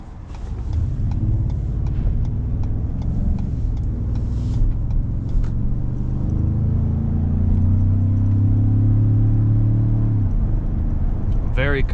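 A 2016 Ford F-150 Platinum's 3.5 EcoBoost twin-turbo V6 drives along at night, a steady low engine drone that rises and builds as it pulls, then eases off near the end.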